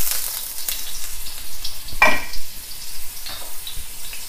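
Ginger frying in a hot wok, a soft continuous sizzle with a brief louder crackling burst partway through, close and alone without any talk.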